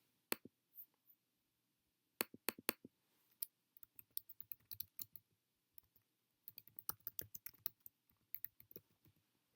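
Keys clatter on a computer keyboard as a search is typed, in uneven bursts of close, crisp clicks with short pauses between, no voices.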